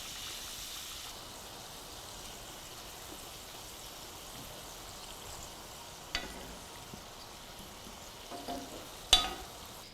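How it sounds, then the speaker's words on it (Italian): Oil sizzles and crackles steadily as panzerotti deep-fry, a continuous hiss with a few sharper pops and clinks near the end. "Continuiamo a friggere fino ad esaurire tutti i panzerottini."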